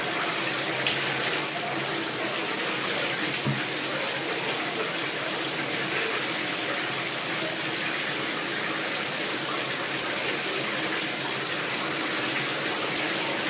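Water pours steadily from a tap while a Siberian Husky is bathed, a constant loud rushing spray that fills the whole stretch with no voices over it.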